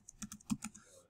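Someone types a file name on a computer keyboard, tapping quickly and faintly in a short, irregular burst of close, light clicks.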